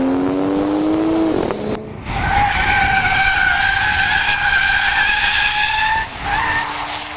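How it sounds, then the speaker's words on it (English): A Nissan GTR drifts with loud, sustained tire squeal and a revving engine close by, its pitch sliding and holding in long screeching bursts with a short break partway through. "if you like the Lexus drifting in video 3, this is his brother driving the GTR"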